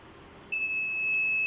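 A small electronic buzzer on the circuit of a women's safety jacket starts up partway through, giving a steady, thin, high-pitched beep that holds without a break to the end, fairly quiet against a low room hum.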